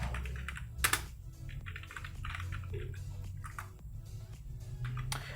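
Computer keyboard keys clack in steady bursts of typing while entering text into an Excel 2019 spreadsheet, close and moderately loud, with brief pauses between runs of keystrokes.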